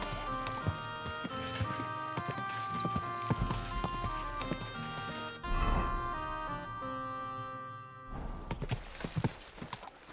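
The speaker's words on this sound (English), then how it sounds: "Hey! Your horse nearly trampled me." Horse hooves clop past at a steady walking rhythm amid a busy scene with sustained tonal background sounds, briefly dropping away before the clatter resumes.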